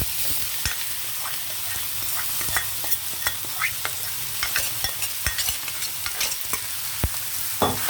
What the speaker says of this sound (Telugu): ఇలాగా పెద్ద దాంట్లో తాలింపు చేసి ఈ తాలింపులో కూర కొద్దిసేపు వేగాలన్నమాట